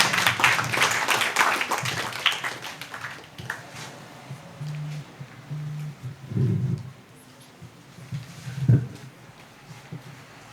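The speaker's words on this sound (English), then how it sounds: "Let's give him a round of applause." Dense clapping from a seminar audience at a drug sensitization event fills the opening seconds, then thins out and fades, leaving a quiet room with a few low hums and thuds.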